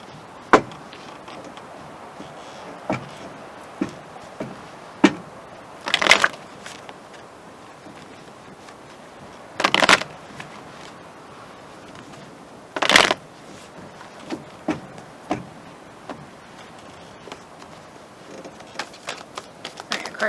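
An angel oracle card deck being shuffled, heard as soft papery riffles with three louder bursts of cards fanning and snapping together amid scattered light taps and handling sounds, close and quiet.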